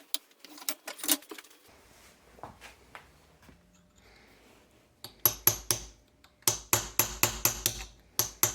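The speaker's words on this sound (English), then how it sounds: "Pulled it out with nothing but a cold chisel and a hammer." A hammer strikes a cold chisel on a broken bolt: sparse, quiet metallic taps at first, then a brisk run of sharp, ringing blows, close and clear.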